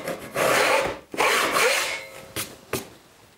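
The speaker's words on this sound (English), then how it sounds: "What I like to do is kind of lift the handle up and work with just the toe of the saw. And I can use that to kind of hollow out the middle." A hand saw works on wood with its handle lifted, the toe rasping out the middle of a dado in two long strokes, then two short sharp scrapes, close and loud.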